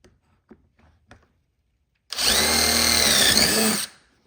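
A power drill bores into a pine fence board for a birdhouse, one loud steady whir lasting about two seconds after a few faint taps, running close and alone.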